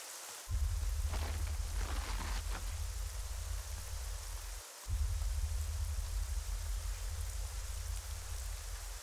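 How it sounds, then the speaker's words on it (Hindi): Heavy, steady rain pours down in a dense hiss with a deep rumble beneath, briefly dipping once before continuing loud and close. "बारिश बहुत तेज हो रही है"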